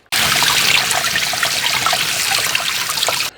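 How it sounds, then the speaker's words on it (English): Running water splashes steadily over beef bones being rinsed for bone broth, a close, continuous hiss with small trickling splashes that stops abruptly after about three seconds. "Now let's finish rinsing up these bones"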